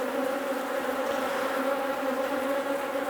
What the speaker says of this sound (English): the bees really are all over my bee suit now, bouncing off my gloves